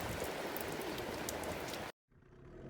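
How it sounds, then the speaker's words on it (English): Rain patters densely on a sailing boat moored off Martinique in the Caribbean, a loud steady hiss of drops that cuts off abruptly near the end before a fainter wash resumes. "now it was wind and rain making it wet everywhere"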